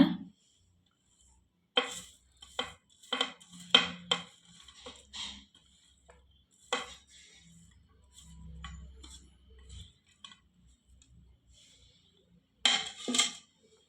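Spoon strokes and clinks against a bowl while batter is stirred with coconut pieces and coriander leaves for Mangalore goli bajji, coming in short irregular bursts with quiet pauses between and no talking.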